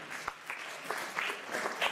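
A small crowd gives a scattered, fairly faint round of applause at a charity auction during a project presentation, with individual claps clearly separated.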